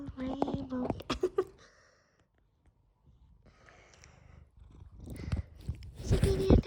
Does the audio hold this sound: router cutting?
no